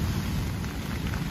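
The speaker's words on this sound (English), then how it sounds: "rain noise behind me, but it's deluging like something out of the Bible." Torrential rain pours outside a fishing bivvy on a beach, a dense, steady roar of downpour that stays loud and continuous throughout with no voices.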